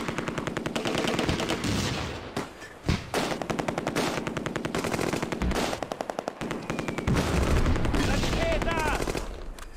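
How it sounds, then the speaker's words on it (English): Gunfire and mortar fire in Close Combat: A Bridge Too Far, dense continuous machine-gun bursts with occasional heavier blasts, loud and sustained throughout, with faint voices mixed in. "They're shooting my scouts. They were hiding in the trees and they're getting mortared."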